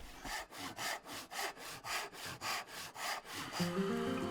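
A Japanese hand saw cuts through wood in steady back-and-forth strokes, about a dozen rhythmic rasping passes, close and clear.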